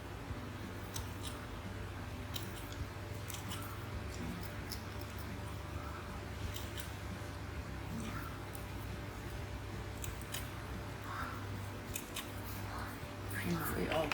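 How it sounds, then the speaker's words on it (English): Scissors snip away the fine roots of lithops succulents lifted from their pot and soil, giving faint, sparse clicks over a low steady background hum. "So trim away all the fine roots."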